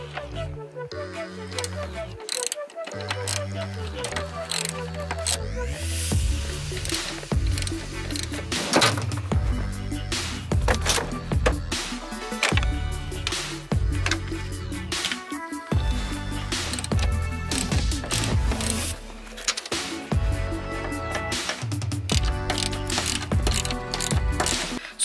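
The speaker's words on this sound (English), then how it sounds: "you're going to need a 14 mil to remove these four bolts." Ratchet with a 14 mm socket working on the bolts of a car seat, bursts of rapid clicking pawl ratcheting with metallic clinks and knocks, close up, continuing in runs across the whole stretch.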